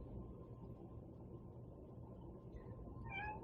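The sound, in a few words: cat meowing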